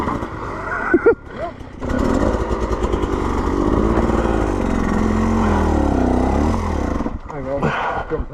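A trail motorcycle on worn tyres labours up a steep green lane near Kingsbridge, its buzzing, revving engine strained and close for about five seconds, with voices shouting before and after.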